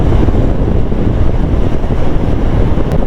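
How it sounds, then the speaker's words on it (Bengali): Strong wind buffets the microphone of a motorbike in motion, a loud, continuous low roar and rumble that fills the whole moment without any talk. "বিভৎস হাওয়া দিচ্ছে,"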